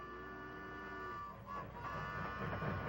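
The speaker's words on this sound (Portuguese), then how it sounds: "Acho que estou ouvindo o trem." A cartoon train approaches from a distance, a faint steady rumble with a sustained horn-like tone that fades out partway and then returns more softly.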